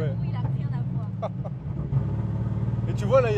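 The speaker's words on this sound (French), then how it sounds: "Ce que tu entends, c'est vraiment l'échappement lui-même, le moteur." Turbocharged BMW E36 engine and exhaust while driving on mountain roads, a steady low drone throughout with people talking over it.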